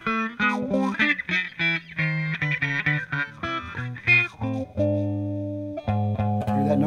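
An electric guitar plays single notes and short phrases through a wah-wah pedal, with a low bass note ringing out near the end. The tone is clear, close and steady, with no talking.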